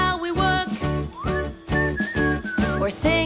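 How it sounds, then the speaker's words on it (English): A person whistles a bright, bouncing tune while working, heard up close over a cheerful children's song with steady music and rhythmic backing throughout. "We'll whistle while we work"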